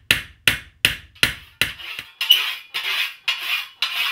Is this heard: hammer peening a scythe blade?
yes